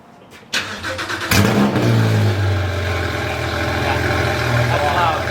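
A Porsche GT4 with a full titanium exhaust and raised headers fires up with a sharp bark, then holds a loud, raspy rev that settles into a steady, throbbing high idle close by.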